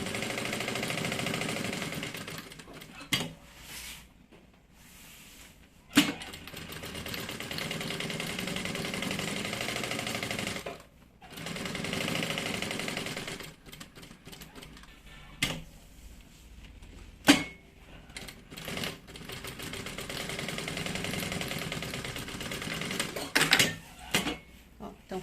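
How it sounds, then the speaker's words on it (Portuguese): A sewing machine runs in long stretches along the edge of a fabric bag, its steady mechanical hum broken by short pauses and a few sharp clicks; nobody speaks. "a gente vai fazer uma costura bem na beiradinha."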